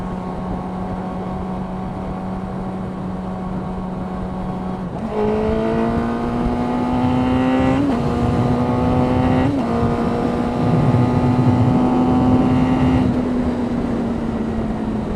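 A motorcycle fitted with a stubby exhaust runs loudly nearby, idling with a steady low drone, then revving up at about five seconds and holding a higher rough roar with small throttle blips.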